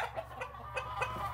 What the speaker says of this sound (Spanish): Y por último, un gallo macho.